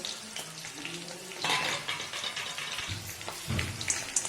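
Green chillies and cumin sizzle in hot oil, a close crackling spatter with bursts of popping and a brief stirring scrape partway through.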